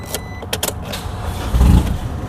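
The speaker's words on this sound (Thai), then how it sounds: "รู้สึกว่าเครื่องคันนี้จะบึ้มมากเลยนะเดี๋ยวเอามาฟังกัน" Isuzu X-Series pickup with a loud exhaust, heard as a short burst of engine rev and rumble building near the end, with some clicks and handling noise before it.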